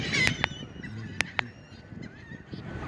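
Several seagulls at City Island give sharp, loud squawks, two close pairs of cries standing out over a busy background of softer gull calls and outdoor hubbub.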